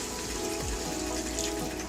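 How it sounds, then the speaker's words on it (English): A cup of water is poured onto spiced chicken in a pot, a short close splash and trickle against a steady background. "So now to the chicken I'll add a cup of water."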